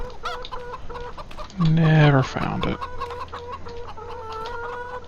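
Chickens cluck in Farming Simulator 2015, with a steady run of short rhythmic clucks and one louder drawn-out squawk partway through, while someone speaks briefly over the farmyard sounds.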